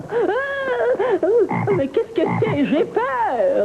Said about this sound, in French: c'est une grenouille qui coasse.